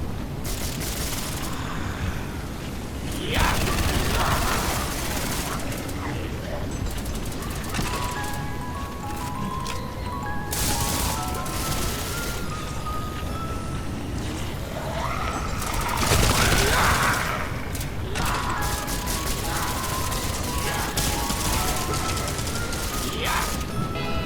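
A Type 100 submachine gun fires in repeated bursts during a Roblox zombies game, dense rattling shots over constant game noise with tonal effects and occasional crashes.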